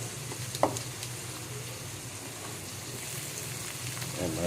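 Shrimp sizzling and frying with garlic in a hot pan, a steady close hiss with a brief clatter near the start and faint stirring toward the end.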